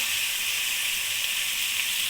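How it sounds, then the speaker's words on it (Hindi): Ground cumin, coriander and garam masala sizzle in a chicken tikka masala gravy, a steady close frying hiss that holds evenly throughout without voices. "ये जीरा, धनिया, गरम मसाला पिसा हुआ ये मैंने इसमें डाल दिया है।"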